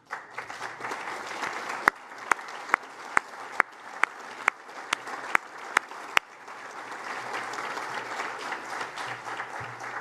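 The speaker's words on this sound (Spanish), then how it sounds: "lo que creo que merece nuestro aplauso" An audience applauds in a steady, dense wash of clapping, with a run of sharp, evenly spaced loud claps standing out near the front for several seconds before the applause carries on evenly to the end.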